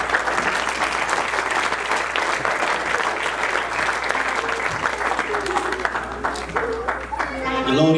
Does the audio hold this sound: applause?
yes